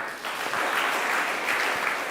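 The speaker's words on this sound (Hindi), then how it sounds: "इनके लिए तालियां जरूर" An audience claps steadily, a dense, continuous round of applause with no talking over it.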